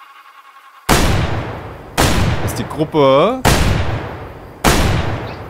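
Hunting rifle gunshots in the video game Way of the Hunter, set on the African steppe: five loud, sharp reports spaced about a second apart, each with a decaying tail, while someone speaks German between them.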